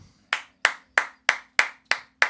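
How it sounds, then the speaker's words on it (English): Seven slow, evenly spaced hand claps ring out crisply and close. It sounds like a single person applauding in a quiet room, with no voices. "I just had to give you a quick round of applause"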